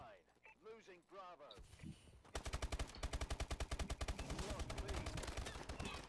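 Rapid automatic gunfire from a Call of Duty: Advanced Warfare match, a dense burst of evenly spaced shots running steadily for several seconds after a stretch of talking, loud and close.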